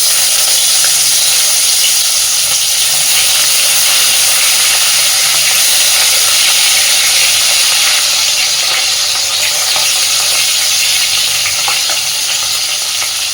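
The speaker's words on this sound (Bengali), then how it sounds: "এইবার আগে কই মাছগুলোকে সুন্দর করে লবণ হলুদ মাখিয়ে ভেজে নেব" Koi fish rubbed with salt and turmeric frying in hot oil, a dense, steady sizzle and crackle with faint pops holding at a constant loud level throughout, no voices.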